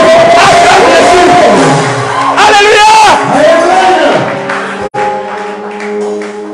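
A church congregation cheers and shouts in acclaim of Jesus, a loud swelling roar of many voices with whoops under a preacher's amplified voice.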